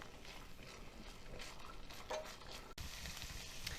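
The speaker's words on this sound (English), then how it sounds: "And we're going to get this sizzling." Beans and corn cook in oil with soft, close sizzling, faint stirring scrapes and clinks, and a low crackle.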